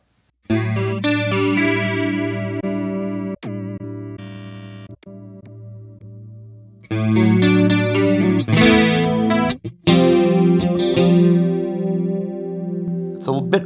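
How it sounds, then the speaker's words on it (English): Electric guitar through a chorus effect on a Line 6 HX Stomp, playing sustained shimmering chords with sharp strums and a pause mid-phrase, loud and close with no talking. "I just feel like a chorus is a good starting point that really covers a lot of bases."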